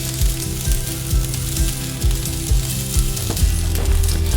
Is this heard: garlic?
yes